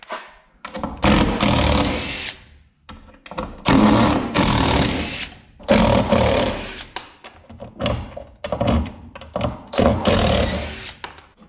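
A saw trims a board on a farm renovation. Several loud, sustained cutting bursts of a few seconds each are separated by short pauses, and the workpiece clunks and shifts between cuts.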